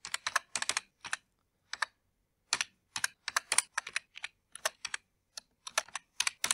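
Bursts of typing on a computer keyboard while entering MQL4 code, quick clusters of key clicks separated by short pauses, close and clear with no talking.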